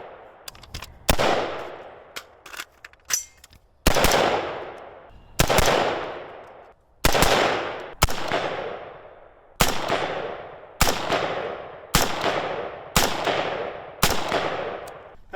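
A rifle is fired repeatedly outdoors, about a dozen loud, sharp cracks, each with a long decaying echo, coming a second or two apart after a few quieter clicks of handling, with no talk.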